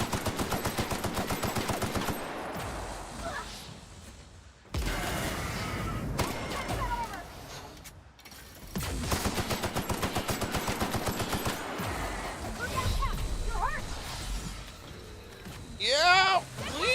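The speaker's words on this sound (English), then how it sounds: "time to pull out the bigger gun" A heavier weapon in The Outer Worlds fires in loud, rapid automatic bursts separated by short pauses, with other chirping game sounds near the end.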